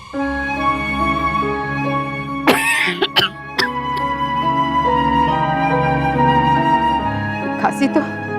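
An ill woman coughs in a few sharp, harsh bursts amid a dramatic scene, with music underneath and pauses between the coughs.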